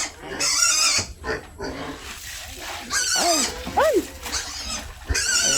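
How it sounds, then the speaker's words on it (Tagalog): Pigs on a provincial farm being fed leftover rice and food slop, grunting and squealing with sharp rising calls amid steady feeding noise and rustling. "Kanin baboy yung pinapakain po namin sa baboy namin."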